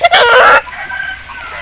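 An Aseel rooster lets out a loud, close, harsh crow lasting about half a second, followed by softer low clucking.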